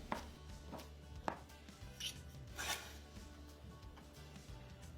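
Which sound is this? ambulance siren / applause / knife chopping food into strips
knife chopping food into strips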